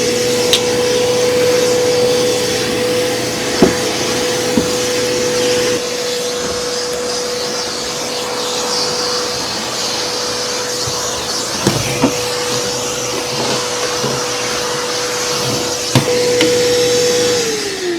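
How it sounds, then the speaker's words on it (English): Steady, loud whine of a vacuum cleaner sucking up woodworking dust from hand-tool work, a constant tone running unbroken for the whole stretch with a few sharp knocks and clatters of debris or the nozzle striking as it moves. "So I had to get a decent vacuum to allow me to clean all this stuff up."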